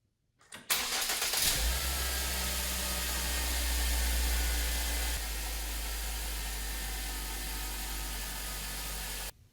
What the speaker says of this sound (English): we're going to start the car and see if that fixed our problem